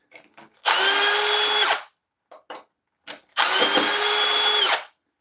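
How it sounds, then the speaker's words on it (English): A power drill whirs in two loud, close bursts of about a second each, backing screws out of a woodturning lathe faceplate on an oak platter, with small clicks between runs. "Let's take those screws out."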